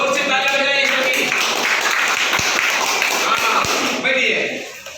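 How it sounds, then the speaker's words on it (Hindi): Classroom students clap together after a correct quiz answer, a dense burst of applause filling most of the moment, with a voice speaking over it before the clapping fades near the end. "वेरी गुड, सही उत्तर, तालियां, जोर से तालियां बजाइए सभी।"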